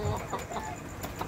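Hill chickens of three kinds clucking close by on a small farm, short soft clucks repeating in an uneven rhythm over faint background noise.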